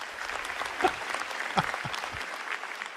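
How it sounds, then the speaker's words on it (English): Applause from an audience of about 2,000 at an NVIDIA keynote rises as steady, moderately loud clapping from a large crowd, with a couple of louder accents and some faint murmuring among the hands. "I'm laughing because he has to prompt them to clap."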